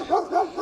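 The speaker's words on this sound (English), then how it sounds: "excuse the dog barking at the moment" A dog barks three times in quick succession, clear and fairly close, with no talk over it.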